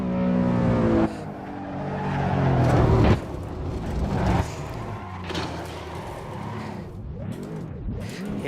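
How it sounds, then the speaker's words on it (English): A Ring Taxi race car brakes hard on the Nordschleife track: a loud engine note drops sharply as the tires squeal and skid, then the engine revs and shifts again from inside the cabin. "And then hard braking."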